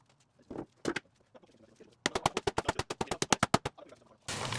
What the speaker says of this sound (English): I'm banging my frame in the ground a little bit just to get it level